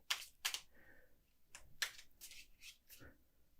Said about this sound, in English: Okay, let's start shuffling this.